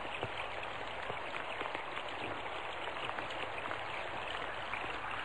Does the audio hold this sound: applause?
no